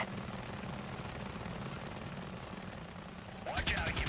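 Helicopter rotor and engine drone fill a combat flight game, with a sharp burst of rapid gunfire cracking in near the end, loud over the steady mechanical roar.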